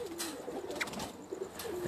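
A white pigeon coos faintly in short, low, soft notes on a rooftop, heard alone against quiet outdoor background noise.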